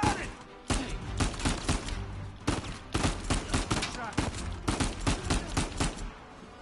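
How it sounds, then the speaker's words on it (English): Rapid bursts of gunfire from the video game Uncharted 4 crack out in uneven clusters of sharp shots, some overlapping, loud and close across the whole stretch, with brief pauses between volleys. "Nice shooting!"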